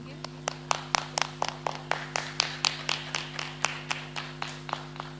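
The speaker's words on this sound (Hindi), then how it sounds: "ध्यान के लिए एक बार हम जोरदार से तालियां बजाएंगे।" Group clapping hands in unison after a meditation session, about twenty sharp, evenly spaced claps in a steady rhythm over a constant low hum, fairly close and clear.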